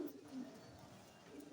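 Racing pigeons kept as pets coo outdoors in a few soft, low, repeated calls close by, with faint background noise between them.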